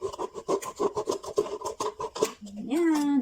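A cutter or thin knife saws through an empty plastic bottle, giving quick rhythmic rasping and crinkling strokes up close, followed by a brief voice at the end.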